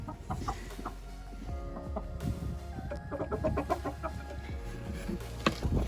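Chickens clucking and murmuring nearby in irregular bursts, with a steady low hum and occasional bird calls in the background.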